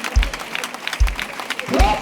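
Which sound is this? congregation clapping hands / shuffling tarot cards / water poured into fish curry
congregation clapping hands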